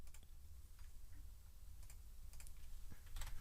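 Soft, quiet keystrokes on a computer keyboard as a bet amount is entered on a sports betting site, a few scattered taps ending in a slightly firmer cluster.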